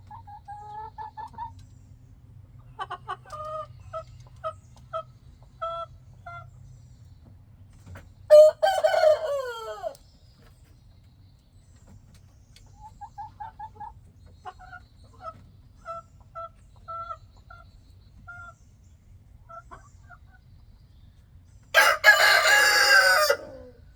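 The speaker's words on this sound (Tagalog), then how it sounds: "ang isa pang tilaok ng tilaok yung mga manok na yan" Roosters, including a White Leghorn, crow in a backyard flock. Two or three long, clear cock-a-doodle-doo calls come close and loud, separated by quieter stretches of short clucks and calls.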